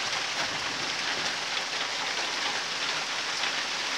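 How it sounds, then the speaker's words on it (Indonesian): Steady rain falling and pattering on surfaces outdoors in a Dayak garden setting, a dense, even hiss of drops that stays constant and fairly loud with no voices. "Hujan sudah mulai turun."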